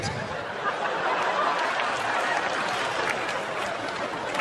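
A comedy club audience at a 2018 Dane Cook stand-up show claps in a sustained round. Laughter and crowd chatter are mixed in, and the clapping stays loud and continuous throughout.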